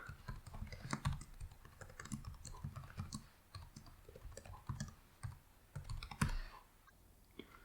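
Steady typing on a computer keyboard while a file is being named in R, with irregular bursts of key clicks close by and no talk.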